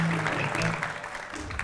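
Studio audience applauding on a Turkish television entertainment show, a steady wash of clapping lasting under two seconds with faint voices underneath.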